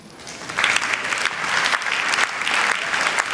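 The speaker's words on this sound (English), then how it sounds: "Ladies and gentlemen, a round of applause," Applause from the audience at a beauty pageant, a dense, sustained round of clapping from a large crowd, loud and continuous with slight surges.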